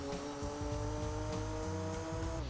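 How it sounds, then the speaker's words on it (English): Turbocharged GT race car engine in the Gran Turismo 2 video game, a steady high revving drone with whining harmonics held throughout, alone without talk. "Listen to the turbos."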